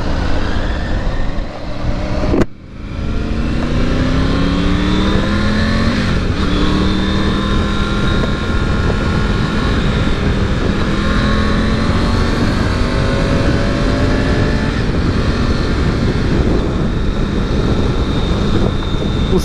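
A new Triumph Tiger 900 Rally Pro motorcycle engine runs steadily and loudly up close, with rising and falling revs as it rides along off-road, and one sharp click early on.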